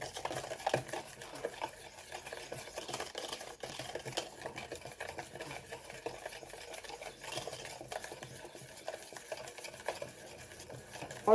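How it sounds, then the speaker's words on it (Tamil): Sattu flour cake batter being beaten and stirred by hand in a bowl, a steady continuous scraping and swishing with soft clicks, close and fairly quiet, with no talking. "அடித்து கரைச்சோம்னா அருமையாக இருக்கும்."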